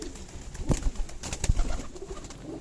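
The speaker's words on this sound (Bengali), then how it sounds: "একটা কবুতরের ঘাড়ে আর একটা কবুতর চড়ে আছে" Girbaz tumbler pigeons at a loft coo in soft repeated bursts, close by, with a few louder throaty calls over low rustling and no talk.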